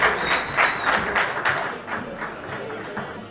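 Audience applause at a semikha (rabbinic ordination) celebration evening, a short burst of clapping from the room that fades quickly, with a few dull thumps and faint chatter underneath.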